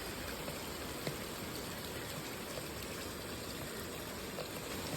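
Steady rain falls on a guppy farm, a dense even hiss of drops pattering on surfaces with a faint trickle of water, constant and close throughout with no voices.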